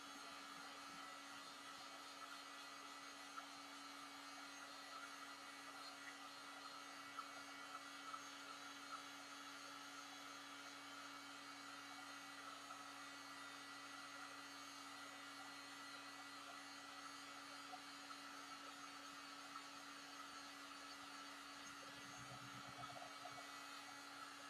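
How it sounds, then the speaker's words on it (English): A heat gun blows steadily as it warms a sheet of Worbla thermoplastic for molding a mask, giving a constant, even whirring hiss that runs unbroken for the whole stretch with no talking. "So then I've got my heat gun."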